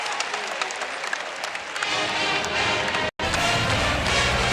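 College basketball crowd at Gill Coliseum applauding and cheering, a dense sustained roar of clapping with a brief cut near the end before it resumes just as loud.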